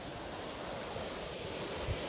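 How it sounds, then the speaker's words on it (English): Water rushes at McGillivary Falls in Whiteshell Provincial Park, a constant broadband roar that is moderately faint and steady, heard alone. "I love the sound of rushing water"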